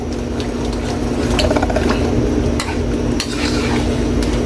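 A utensil stirs coconut milk into pork dinuguan in a wok, giving steady scraping and clinking against the metal with soft liquid sloshing throughout, close and fairly loud with no talking.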